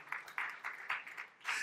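A church congregation clapping during a sermon, a short irregular patter of hand claps at moderate distance that swells and fades in small bursts.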